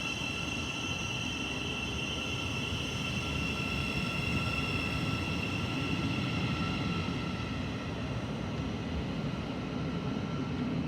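A passenger train from Brighton to Cambridge pulls out of Stevenage station on the East Coast Main Line, giving a steady, fairly loud rumble and hiss with faint high tones throughout, with no talk.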